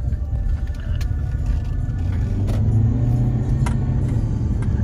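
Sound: car driving on road

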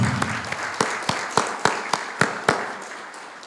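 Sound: audience applause welcoming new academy member

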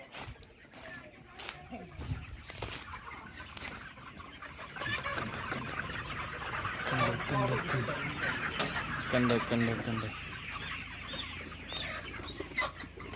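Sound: chickens clucking at poultry farm

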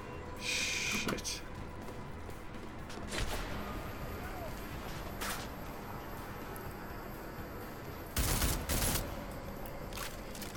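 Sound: gunfire from the video game Deus Ex: Mankind Divided

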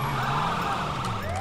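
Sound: ambulance siren in video game Grand Theft Auto V

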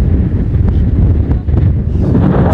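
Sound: strong wind blowing into the microphone

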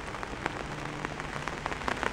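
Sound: rain falling

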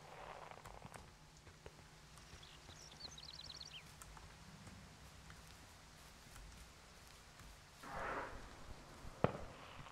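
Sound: fireworks exploding in the distance, Firewatch video game

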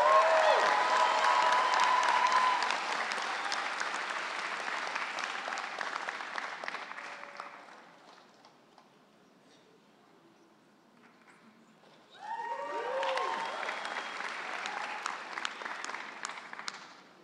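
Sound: audience applause at graduation ceremony

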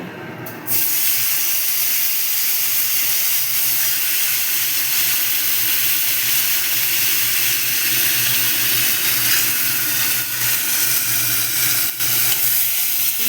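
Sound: potatoes frying and sizzling in hot oil

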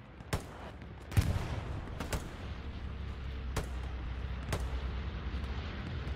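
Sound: gunfire in the video game Hell Let Loose

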